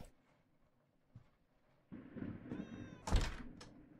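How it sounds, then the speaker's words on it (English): A cat meows in a horror video game, a faint drawn-out call among soft thumps and a sharp knock-like hit, with quiet ambience around it. "I heard a cat."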